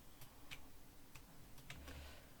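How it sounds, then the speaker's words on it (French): Faint keyboard typing and mouse clicks sound during a Dead Cells gaming session, a handful of sparse, soft, close taps scattered over a quiet background. "je pense qu'on entend un peu mon clavier, un peu mes clics"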